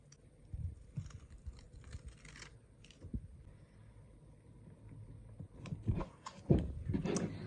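Paper surprise package being opened by hand, soft close crinkling and rustling of paper with a few sharper crackles building toward the end, fairly quiet throughout.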